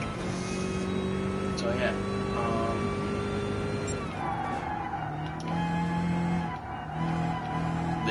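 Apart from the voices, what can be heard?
car engine sounds in video game Gran Turismo Sport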